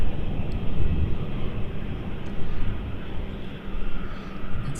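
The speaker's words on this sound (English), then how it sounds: "Let's catch the Malaysia 330 Neo." Malaysia Airlines Airbus A330neo at an airport, its engines producing a low, rumbling roar that stays steady and fairly loud throughout, heard from a distance with wind noise.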